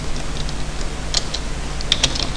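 Keys clatter on a computer keyboard in quick, light taps, close and fairly quiet, with a few sharper clicks over a faint steady hum and no talk.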